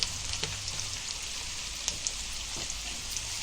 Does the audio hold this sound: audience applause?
no